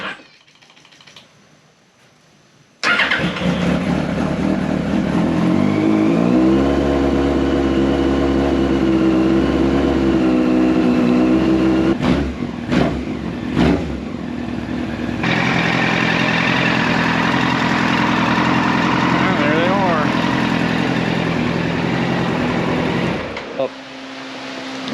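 A 1999 Yamaha R1 motorcycle engine with carburettors and the choke on catches after a quiet start, then idles loudly and steadily with a few blips and a brief cut near the end.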